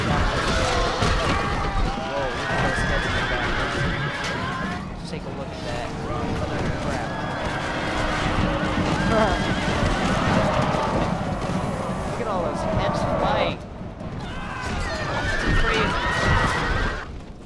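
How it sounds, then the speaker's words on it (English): Cavalry horses neigh and whinny repeatedly over galloping hooves in a Rome: Total War battle between Gauls and Britons, a loud, dense din of clashing armies that stays steady throughout with a brief dip near the end. "my cavalry just got"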